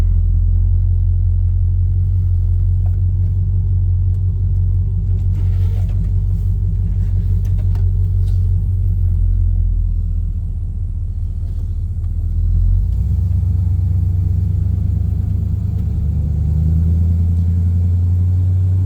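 A 1969 Camaro Super Sport pulls away in drive, its engine rumbling deep and steady from inside the car, with a slight shift in tone partway through as it rolls on.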